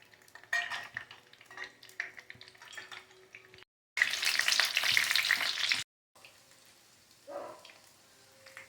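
Slit green chillies and onion frying in coconut oil in a pan for a Kerala-style fish fry, a steady crackling sizzle with a louder burst of spitting oil midway and a few utensil clinks, no voices.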